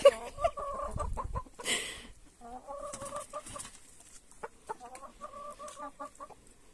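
Gris Sendry hens and a rooster cluck in repeated bursts close by, with soft barnyard shuffling and a brief rustle between the calls.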